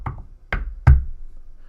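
Three sharp knocks on a door, spaced irregularly over under two seconds, loud and close, with nothing else underneath.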